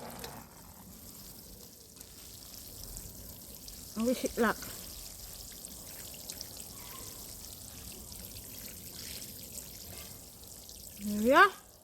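A freshly planted raised garden planter getting watered, with a soft, steady pour and trickle of water on soil throughout. Someone speaks briefly partway through, and a louder burst of sound comes near the end.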